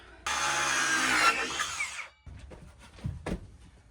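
A power saw cuts a wooden interior paneling board for a tiny A-frame cabin, a loud whining cut of about two seconds, followed by a few scattered knocks and handling sounds, close by, no talking.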